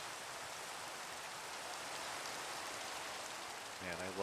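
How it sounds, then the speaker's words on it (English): Steady hiss of rain falling in Minecraft, an even wash of noise throughout, with a brief voice starting right at the end. "Man, I love rain in Minecraft, but I hear it's not good for recording."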